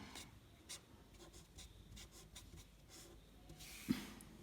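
Faint strokes of a marker or chalk scratch across a board during a basic chemistry lesson, a quiet run of short rubbing marks in a hushed room with one sharper tap near the end.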